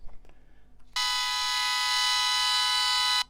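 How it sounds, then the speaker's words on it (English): The horn of a Porsche 917 model kit sounds as a single sustained electronic buzzing tone, bright and steady for about two and a half seconds, after faint handling clicks. "That's the horn."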